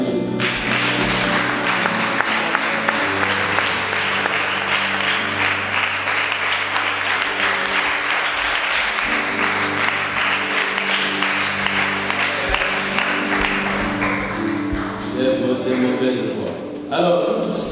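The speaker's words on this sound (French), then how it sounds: "Est-ce qu'on peut acclamer Jésus?" A church congregation gives sustained applause and cheers in praise of Jesus, loud and dense throughout, with a few voices calling out and trailing off near the end.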